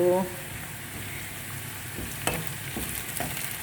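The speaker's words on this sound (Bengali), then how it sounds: "ওখানে পেঁয়াজ রসুন বাজা করে নিয়েছি আর দিয়ে দিলাম আদা জিরা রসুন বাটা" Onion and garlic sizzling in a pan as ginger, cumin and garlic paste go in for a coconut milk and yogurt chicken curry, a steady close frying hiss with light stirring scrapes.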